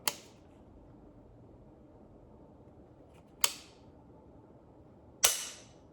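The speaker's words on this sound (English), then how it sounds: "See that that's the reset, and firing it." A CMMG Dissent Mk47 rifle in 7.62x39mm is dry-fired: three sharp, isolated metallic clicks from the trigger and its reset, close and crisp, spaced a few seconds apart against quiet room noise.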